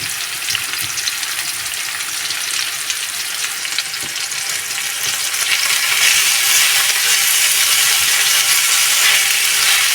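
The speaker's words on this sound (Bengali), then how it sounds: "পেঁয়াজটা একদম লাল করে ভেজে নিতে হবে।" Thinly sliced medium onion and green chilli strips frying in a pan give off a loud, dense, continuous sizzle that swells slightly toward the end, close up with nobody speaking.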